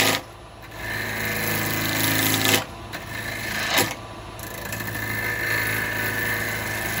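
A bowl gouge rough-turns a maple bowl on a spinning lathe, a steady whirring hum with continuous scraping and cutting texture and a couple of sharp bursts as the tool bites, loud and close.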